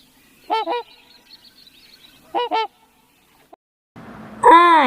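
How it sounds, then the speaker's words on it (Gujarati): Swan calls, two pairs of short nasal honking notes separated by a pause, loud and close against a quiet background, followed by a burst of noise and another louder honk at the end. "હંસનો અવાજ કેવો હોય છે?"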